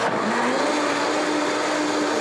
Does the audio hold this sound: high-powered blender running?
yes